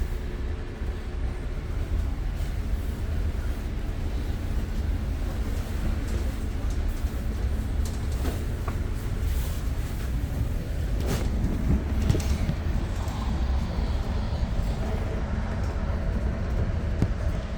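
An exo commuter train runs on the Mascouche Line in winter, heard from inside as a continuous low rumble and rolling drone with faint clicks and rattles from the wheels and carriage.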